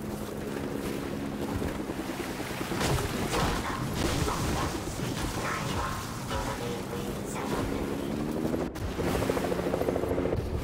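A helicopter in Fortnite gameplay whirs with a continuous droning rotor and engine hum, layered with rushing wind noise that swells and fades, loud and close.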